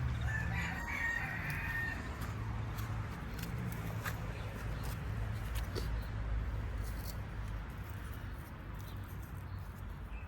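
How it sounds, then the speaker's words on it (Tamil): A rooster crows loudly nearby at the start, followed by fainter clucking over a steady low outdoor background hum. "கோழி கத்துதோ இருக்கா"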